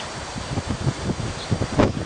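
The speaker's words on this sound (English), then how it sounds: "You can hear the wind, I'm sure." Gusty wind buffets and rumbles in uneven pulses, rising and falling with a rough, blustery texture and no voices.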